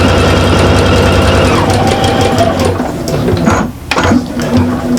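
A sewing machine runs steadily down the sides of a bag lining, its rapid rhythmic stitching close and loud, then it slows and briefly pauses before starting up again.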